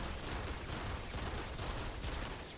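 Rapid fire from the Spec19 laser pistol in the game Starfield: a dense, steady barrage of shots running continuously for the whole stretch, loud and close with no talking.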